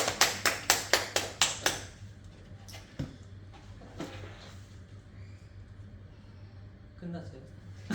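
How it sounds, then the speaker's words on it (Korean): A church congregation gives thanks to God with about eight crisp, evenly spaced claps in quick succession close by, and then people talk quietly. "우리 하나님께 감사의 박수 드리겠습니다"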